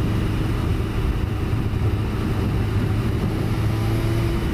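Suzuki GSXR 750 K1 motorcycle cruising gently in a high gear, a steady, even engine drone mixed with wind rush, constant and close throughout with no speech.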